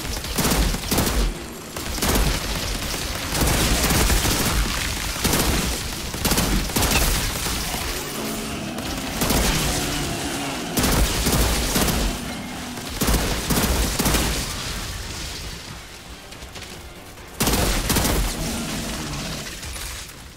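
Sustained automatic gunfire in the shooter game Outriders, a dense, loud stream of rapid shots with impacts and booms that runs almost continuously, broken by a few short pauses.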